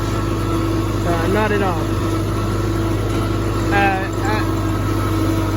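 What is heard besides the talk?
1971 Cub tractor engine running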